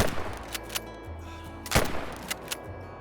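Rifle shots while hunting animals in the Call of the Wild game: a few sharp reports, one clearly louder near the middle, with fainter cracks and thuds around it over low background sound.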